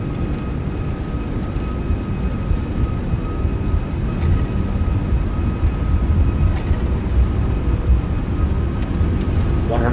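Airbus A340-600 engines at takeoff thrust in a flight simulator, a steady loud roar with a low rumble and a faint high whine held across the takeoff roll, with occasional soft clicks and brief pilot callouts over it.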